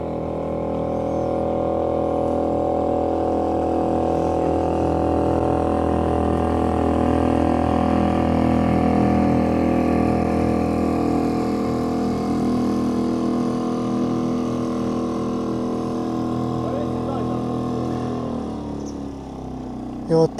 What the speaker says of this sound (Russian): и моторка проходит